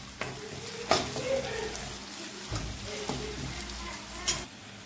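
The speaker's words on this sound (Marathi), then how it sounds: "लसूण अद्रकाची पेस्ट घातली आपण। आता ही 2 मिनिटं आपल्याला तेलात परतून घ्यायची आहे।" Garlic-ginger paste sizzles steadily in hot oil, with sharp scrapes of a spatula stirring it through the pan at intervals; close and clear, no voices.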